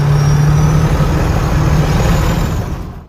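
A lifted Ford F-250 pickup on a road test after a first repair, towed in for stalling while driving and said to have a severe death wobble; a loud, steady low engine and road rumble runs throughout, easing slightly at the end.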